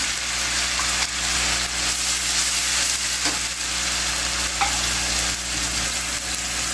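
Onion and garlic paste sizzles steadily in hot oil in a home kitchen pan, a continuous close frying hiss with occasional stirring scrapes and no talk.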